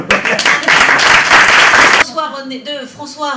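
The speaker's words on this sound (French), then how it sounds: "je vous demande d'applaudir très fort" Loud audience applause at a theatre show, a dense burst of clapping that stops abruptly partway through, after which someone speaks alone.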